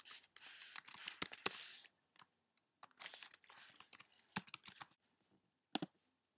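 Someone types an email address and password on a computer keyboard, quick irregular clusters of close, crisp key clicks with brief pauses between bursts.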